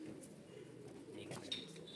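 Rampuri pigeons give soft, low cooing calls, faint and close, with light clinks in the background.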